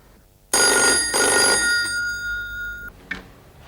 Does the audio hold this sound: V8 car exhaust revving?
no